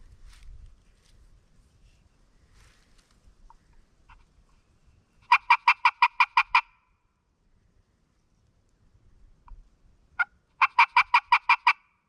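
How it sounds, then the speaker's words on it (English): Two quick bursts of sharp, clucking turkey-call notes from a striker making cuts, about seven each, separated by quiet pauses with faint handling noise. "And this is kind of what a cut sounds like."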